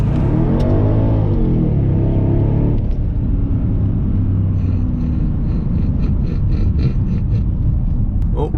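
A 650HP Mercedes CLS 55 AMG accelerates hard, its engine roaring loud and close with a rising pitch, then a shift and continued heavy rumble through the rest of the pull.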